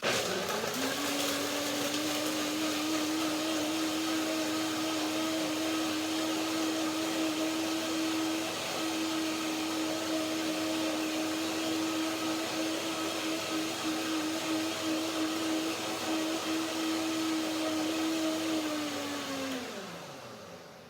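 A blender whirs steadily at high speed blending cashew cream for about twenty seconds, a loud constant motor drone that winds down at the end.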